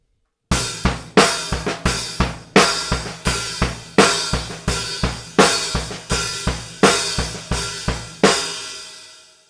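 A slow rock drum beat repeats steadily, with kick and snare hits ringing out under cymbal wash, played alone at a relaxed tempo.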